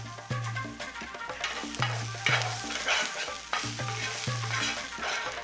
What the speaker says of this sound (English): Now we're gonna cook our ginger and our garlic.